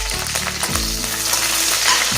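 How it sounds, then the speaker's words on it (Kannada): Green chillies, bay leaf, cardamom and cumin frying in oil in a pan for chana masala, a steady close sizzle with crackling bursts, no talking. "ಸ್ವಲ್ಪ ಫ್ರೈ ಮಾಡ್ಕೊಳ್ಳಿ."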